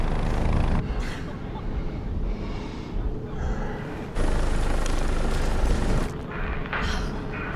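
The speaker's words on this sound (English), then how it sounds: "They got a rescue chopper to us quick." A rescue helicopter in the video game Tom Clancy's The Division gives off a rough, churning roar that surges and dips in loudness in several swells, with breathy sounds mixed in.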